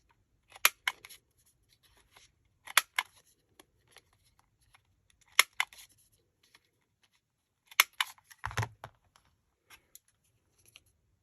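A handheld corner rounder punch clips the corners of paper stickers for an appointment box, giving four sharp, close snaps spaced a couple of seconds apart, with a heavier clunk among the last ones and faint rustling between.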